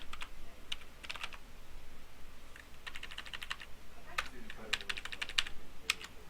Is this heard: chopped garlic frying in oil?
no